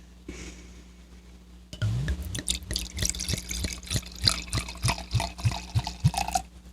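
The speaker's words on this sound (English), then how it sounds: "It's a heavy pour" Wine poured from a freshly unscrewed bottle into a glass, starting after a quiet moment with a gush and then a close, rhythmic series of glugs and splashes repeating about twice a second.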